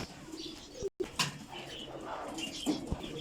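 Pigeons in a breeding cage give soft nearby coos and low murmuring calls, with a brief rustle or wing flutter among them and faint background noise.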